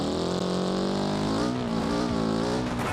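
Medium duty truck engine in BeamNG.Drive, driven on dirt, a loud steady engine drone with rising and falling revs and rich harmonic tones, continuous and close throughout.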